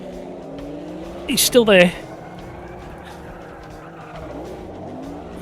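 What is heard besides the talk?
race car driving alongside in the racing video game AMS2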